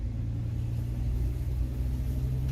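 A 1967 Ford Mustang with non-power steering drives up a street, its engine giving a steady low rumble that holds even and moderately loud throughout, with no voices.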